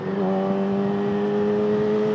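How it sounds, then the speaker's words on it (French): A 2019 Yamaha R6 sport motorcycle drones loudly and steadily close by, its engine holding an even, sustained tone without much change in pitch over the couple of seconds. "Ça c'est depuis que la moto elle fait du bruit."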